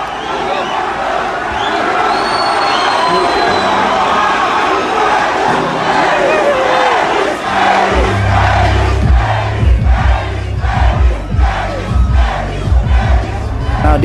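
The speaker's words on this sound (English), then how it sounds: "now the crowd started losing it" A large festival crowd at Cotton Fest 2020 shouts loudly, the roar swelling into rhythmic, pounding chants in the second half while scattered voices carry over the din.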